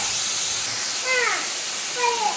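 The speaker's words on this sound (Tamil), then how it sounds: "இப்போது ஆனியன் நல்லா ஃப்ரை பண்ணியாச்சு" Sliced onions frying in a pan with salt for a Kundapura-style chicken curry give off a steady, close sizzling hiss, while a voice speaks briefly over it.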